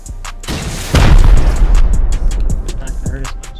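A rocket explodes during a base raid in a video game, hitting with one loud, heavy boom at about one second. Its rumble trails off over the following seconds, with sharp clicks and game noises around it.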